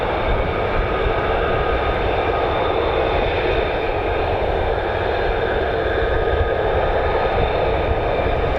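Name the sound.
F-35 fighter jet, conventional takeoff and landing variant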